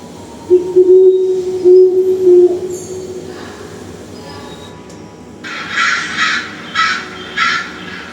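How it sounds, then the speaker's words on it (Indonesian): A low, steady tone drones briefly, then harsh recorded cawing bird calls from a wildlife attraction's display repeat several times in a loud, evenly spaced series. "nanti akan keluar deh suara burung-burung yang kita pilih"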